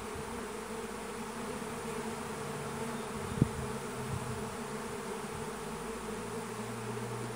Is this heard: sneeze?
no